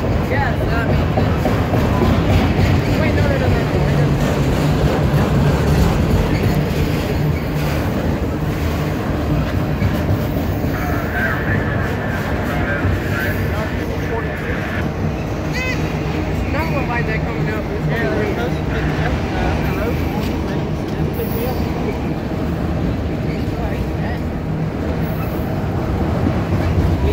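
A Norfolk Southern freight train rolls past close by, a steady loud rumble with rail clatter and wheel squeal, as people talk over it throughout.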